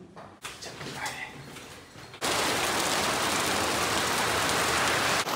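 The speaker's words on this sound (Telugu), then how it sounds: "భారీ వర్షం అన్నమాట." Heavy rain near the Three Gorges Dam on the Yangtze River in China, a dense, loud, even roar of downpour that starts abruptly after a few seconds of softer background noise.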